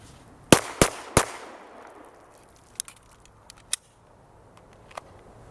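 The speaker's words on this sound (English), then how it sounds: "how do you not love shooting a Glock 19?" Three sharp, loud shots from a Glock 19 Gen 4 pistol fire in quick succession and ring out briefly, followed by fainter clicks and metallic handling sounds.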